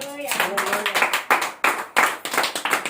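A crowd at a Telugu sermon claps in steady rhythmic unison, each clap sharp and close. The clapping runs throughout, with a voice briefly at the start.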